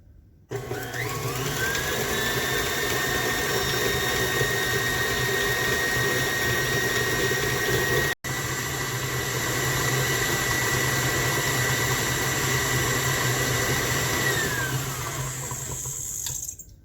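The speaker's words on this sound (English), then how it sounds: "I have in my mixer 1½ cups of sugar, 1 cup of butter, and 1½ tablespoons of vanilla. We want to beat this until it's light and fluffy." Electric stand mixer steadily beating sugar, butter and vanilla for red velvet cake icing, a constant loud motor whine with a rushing churn, briefly cutting out midway before running on.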